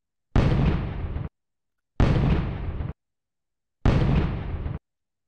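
A Daewoo USAS-12 shotgun, a gas-powered airsoft replica, fires three separate loud, hard bursts about a second and a half apart, each ending abruptly, with silence between.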